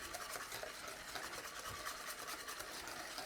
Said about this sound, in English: In with our lemon zest. In we go. Stir it all in.